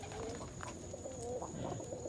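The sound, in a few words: pigeons cooing, brown bar hen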